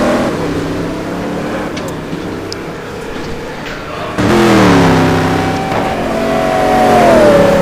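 A Koenigsegg race car drives an outlap at Magny-Cours in a GT1 racing game, its engine droning steadily and loudly, then rising sharply into a louder, higher revving pitch that climbs and dips as it accelerates.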